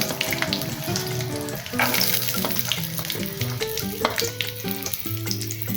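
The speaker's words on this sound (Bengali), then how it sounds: "শুটকি ভাজার পর যে তেলটা বেসেছে আমি সেই তেলে ভেজে নিচ্ছি রসুনগুলো" Garlic cloves frying in oil left over from frying dried puti fish, a loud, dense sizzle with crackling pops and occasional stirring, steady throughout.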